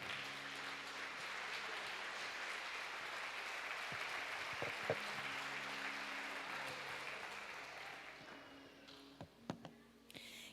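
A Pentecostal congregation at Igreja do Altíssimo Sede claps steadily in praise during an evening service. The dense, sustained applause thins out toward the end, leaving a few scattered taps and clicks.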